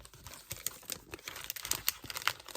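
Crisp rustling and crinkling of decorative scrapbooking paper sheets being handled, with irregular soft taps and rubs, close and fairly quiet.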